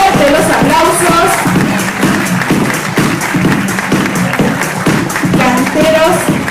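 Audience applause and cheering at a cultural ambassador election in Villa Ángela, a loud, sustained crowd clapping under amplified background music and some voices.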